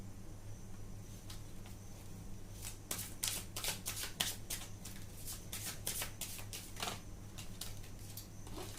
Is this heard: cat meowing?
no